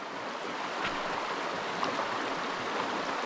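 River water flows steadily across a mountain crossing in New Hampshire's White Mountains, a continuous broadband rush with no clear pauses, close by and fairly even in level throughout.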